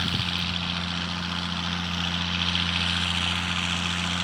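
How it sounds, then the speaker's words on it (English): A drone flying over a wheat field on a farm makes a steady propeller drone and whine that holds evenly throughout. It is mixed with broad outdoor noise, and no one speaks. "I'm gonna fly the drone a couple minutes"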